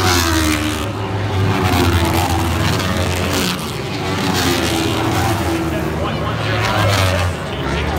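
Racing engines roar continuously around a dirt track during a heat race in Lima, a loud, dense drone that swells and fades slightly as machines pass, with a commentator talking over it.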